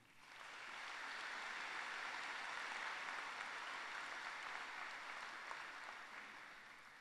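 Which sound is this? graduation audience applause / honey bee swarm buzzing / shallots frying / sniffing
graduation audience applause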